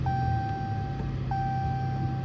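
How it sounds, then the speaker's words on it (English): Car seatbelt warning chime inside a vehicle, two clear high electronic beeps spaced about a second apart over a low steady engine or cabin hum, no voices. "this seatbelt, I forgot I don't have it on, and it's gonna be beeping and beeping and beeping"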